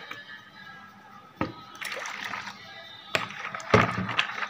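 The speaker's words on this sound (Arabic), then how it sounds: "واحط بقى كوبايتين ميه اهو" Two cups of water are poured into salt for pickling olives, giving splashes and sloshing bursts with clinks against the container, close and moderately loud.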